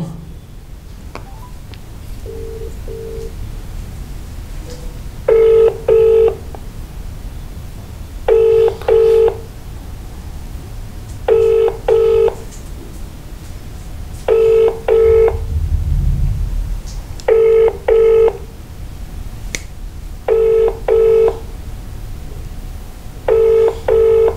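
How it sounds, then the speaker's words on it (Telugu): A phone call rings out unanswered, with a double-pulsed ringback tone repeating at steady intervals, loud and clear over a faint low rumble, with no voices. "కేంద్ర సహాయ మంత్రి బండి సంజయ్ కరీంనగర్ ఎంపీ గారికి ఫోన్ లిఫ్ట్ చేయడం లేదు"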